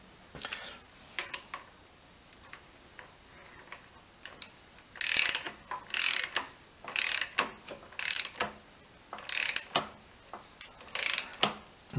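Ratchet torque wrench tightening a fitting to 30 foot-pounds on a BM B44 trials motorcycle, quiet at first, then repeated bursts of loud rapid clicking close up with short pauses between strokes.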